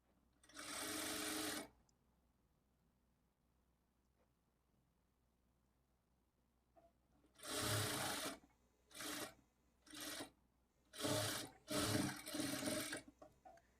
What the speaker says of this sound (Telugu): ఇప్పుడు మనం మార్క్ చేసుకున్న ఈ మార్కింగ్లు 2 కూడా ఇలా కరెక్ట్గా ఒకే చోటికి వచ్చేలాగా పట్టుకొని ఈ మార్కింగ్కి స్ట్రైట్గా స్టిచ్ చేసుకోవాలి